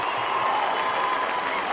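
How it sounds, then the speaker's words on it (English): A brief, steady wash of cheering and applause greets a guest on a hip-hop podcast, fairly soft and sustained throughout without any talking on top. "We got cheering."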